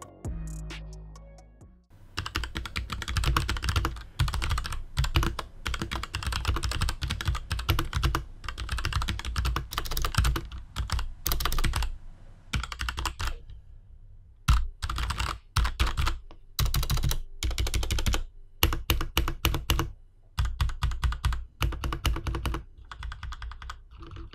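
Steady typing on a Drevo Blademaster TE mechanical keyboard with Black switches, a dense run of close, crisp key clacks in bursts separated by brief pauses, with no voices.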